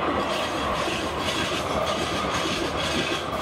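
A Denver RTD light rail train rolls past close by, a steady, loud rumble of wheels on track with faint clickety-clack and no voices.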